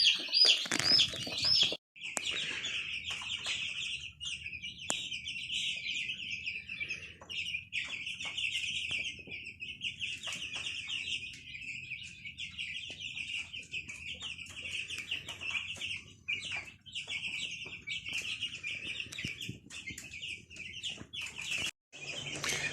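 Five-week-old meat chickens cluck and chatter continuously close by, with occasional higher calls and brief rustling, no talking.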